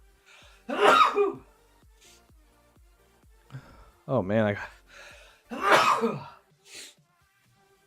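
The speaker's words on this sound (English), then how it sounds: "the double sneeze" Two loud, explosive sneezes a few seconds apart, close up, with a brief spoken remark and a throaty noise between them.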